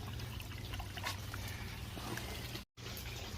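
Water trickling steadily from a pond float valve pipe, a continuous close splashing stream with a brief dropout near the end.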